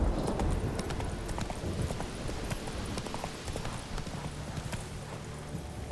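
The horse Roach gallops in The Witcher 3, rapid hoofbeats pounding in a steady rhythm, close and loud over ambient game sound, with no voices.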